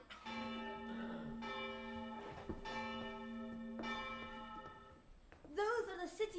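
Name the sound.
city church bells ringing, from a school play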